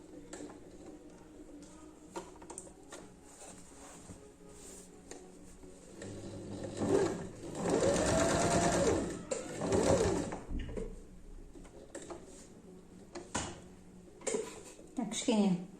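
A sewing machine stitches zigzag on knit fabric, a faint rhythmic whirring that swells louder for a few seconds midway, with someone speaking quietly around it.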